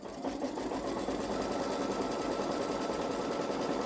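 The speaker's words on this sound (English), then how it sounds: "I'm just going to start stitching" A Babylock Solaris embroidery sewing machine runs a placement stitch in a fast, even mechanical whir with a steady rhythmic chatter. It is close and continuous, with no one talking.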